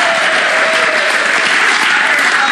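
Thunderous audience applause after a magic trick, a dense, loud, continuous wash of many hands clapping that holds steady for the whole stretch without pause.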